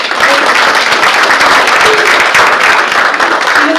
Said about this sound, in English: We're going to still clap for her.